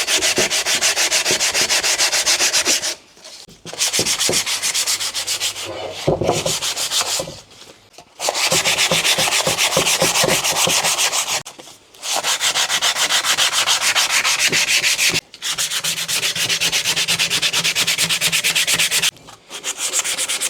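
Coarse P60 sandpaper scrubs back and forth across a surface being refurbished, a loud, close, steady abrasive rasp that stops briefly several times before resuming, with no voices.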